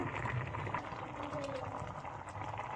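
A pot of water comes to a boil for ragi mudde, giving a faint, steady bubbling and churning that continues evenly throughout without pause.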